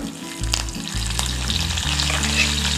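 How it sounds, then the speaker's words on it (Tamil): Mustard seeds and curry leaves crackle and sizzle in hot oil, a loud close frying hiss with quick spattering pops and a few stirring knocks, steady throughout and free of speech. "இப்போ கொஞ்சம் கடுகு போட்டு தாளிச்சிக்கலாம் நம்ம"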